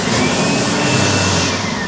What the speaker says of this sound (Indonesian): Ini juga ada pengering tangan ya.